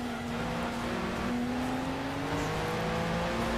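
Race cars in Gran Turismo 2, including a Lotus Elise and a GT1 car, hold a steady, droning engine whine at high revs, with pitch sliding slightly as they run close together.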